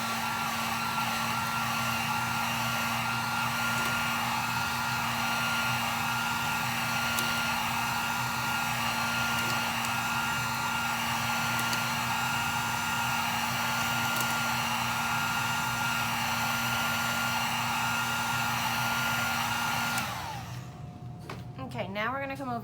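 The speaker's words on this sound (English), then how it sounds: "Use your heat gun." Harbor Freight heat gun blowing steadily on a 20oz skinny sublimation tumbler, a loud continuous whirring hiss with a motor hum, shutting off near the end as the fan winds down.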